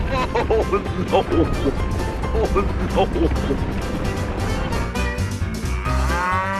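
Loose cattle moo loudly and repeatedly while running among police cars, over a busy background of rumbling engines and commotion, with a vehicle sweeping past near the end.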